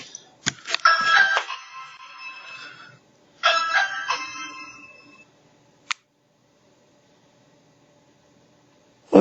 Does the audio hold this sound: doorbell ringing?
yes